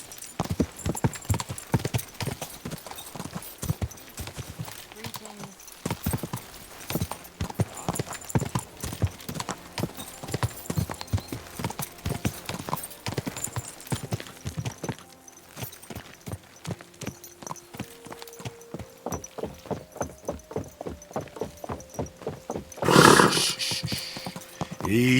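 A horse's hooves clip-clop in a fast, steady rhythm close by, running on for the whole stretch, with a brief whinny or burst of noise near the end and a faint voice now and then.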